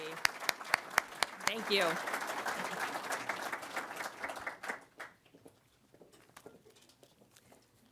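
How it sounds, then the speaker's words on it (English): An audience at the grand opening of a community center in Westland, Michigan bursts into loud, dense clapping that swells for a few seconds and then fades to scattered claps, with a brief spoken thanks near the end. "Let's give a round of applause for a beautiful facility for Westland community."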